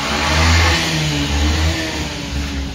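A motor engine revs close by in traffic, rising and falling twice in throaty bursts over a steady street rumble.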